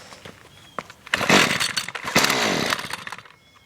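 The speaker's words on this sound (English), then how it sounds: "So we'll start up this trimmer." A Husqvarna or Stihl string trimmer, primed and choked after sitting since the other day, sputters with a couple of short pulls and then catches in loud buzzing bursts close by.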